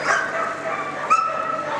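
A 6–7-month-old young dog barks and yips in a large indoor arena, with a couple of short, high-pitched barks close by against a steady background of crowd noise.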